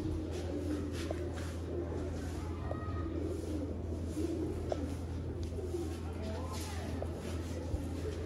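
Pigeons in a Sialkoti breeder's loft coo repeatedly over a steady low hum and faint shuffling, with a voice talking in the background.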